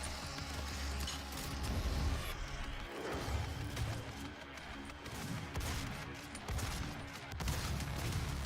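Pistol gunfire in the Rage Room video game, a run of sharp cracks and impacts mixed with crashing debris over a dense, busy game soundscape.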